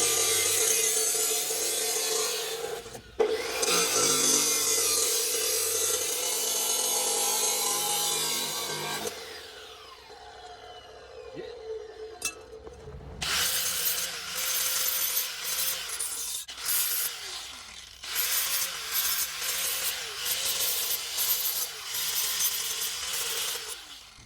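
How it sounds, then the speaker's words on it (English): A power saw cuts through turbo Y-pipe tubing in a workshop, several long gritty cutting passes broken by brief pauses and a whining metallic pitch, loud and close with no talk. "I'm gonna go over to my saw and I'm gonna hack this off"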